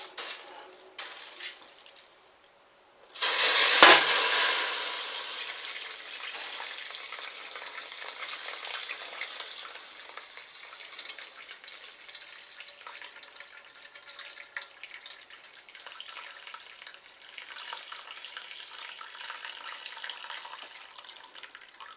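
Apple-core juice pours and trickles through a strainer, a steady wet splashing rush that starts abruptly after a brief quiet and continues evenly throughout, close and moderately loud.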